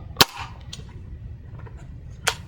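A Benjamin Trail NP air pistol fires hollow point pellets, two sharp, close cracks about two seconds apart over a quiet background.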